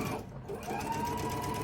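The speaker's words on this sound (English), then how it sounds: "I'm sewing almost to the end of that block and leaving the needle down" A sewing machine stitches steadily across a quilt block, a continuous close mechanical whir with a brief pause near the start before it runs on without stopping.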